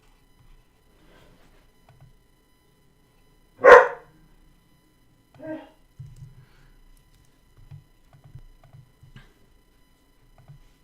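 A dog gives one loud, sharp bark, followed by a shorter, quieter yelp, with faint scattered low thumps and small noises around it in an otherwise quiet indoor room.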